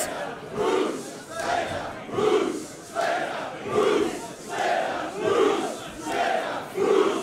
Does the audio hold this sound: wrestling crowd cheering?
yes